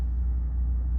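An Audi RS3's engine runs with a deep, steady, close-up rumble that holds even for about a second, alone with no talk.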